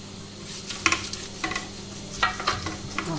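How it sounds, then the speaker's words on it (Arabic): Phyllo dough (galash) frying in hot ghee while being stirred, giving soft close sizzling with scattered scraping and clinks at an irregular pace, no voices. "حطينا الجلاش في السمنه كده اهوت"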